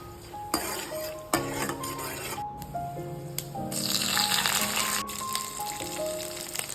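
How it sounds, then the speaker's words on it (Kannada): Chana dal frying in a pan, stirred with a metal spoon that clanks and rings against the pan in repeated strokes over a light sizzle, close and with no talking. "ಕಡಲೆಬೇಳೆ ಹಾಕಿ ಸ್ವಲ್ಪ ಚೆನ್ನಾಗಿ ಫ್ರೈ ಮಾಡಿ"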